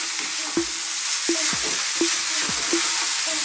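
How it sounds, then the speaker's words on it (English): Rice and potatoes stir-frying in a pan on maximum heat for a vegan Indian aloo dish, a steady loud sizzle broken by repeated scraping strokes of the spoon about every half second. "keep stirring this in and actually fry that rice"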